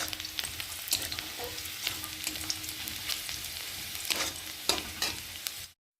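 Chopped onion and garlic frying in a pan for a tomato masoor dal, a continuous close sizzle broken by repeated scraping stirs, with no talking.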